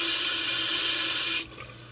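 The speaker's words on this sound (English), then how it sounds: "Put a little bit of water in my hand." A bathroom tap runs in a steady hiss for about a second and a half to wet a dirty makeup blush brush, then cuts off, leaving only faint trickling.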